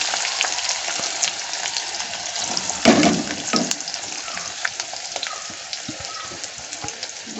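Whole cumin seeds, a dried red chili, two bay leaves and onion frying in hot oil for a paneer dish, a close steady crackling sizzle with a brief louder splutter as ingredients drop in.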